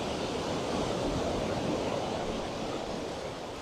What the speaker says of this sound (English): I do apologise for the wind.